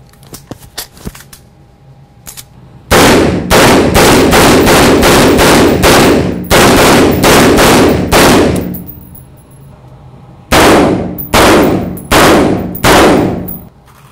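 A standard AR-15 rifle fires in rapid strings of very loud, sharp shots, close up, in several bursts with short pauses between them, after a few faint clicks and handling noises.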